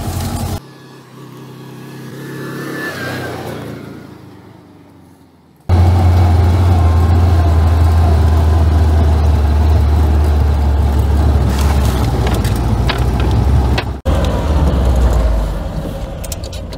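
A tuned LuAZ off-road car with large wheels drives along in all-wheel drive, its engine a steady loud low drone after a quieter start, continuing without talk.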